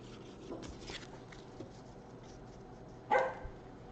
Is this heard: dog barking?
yes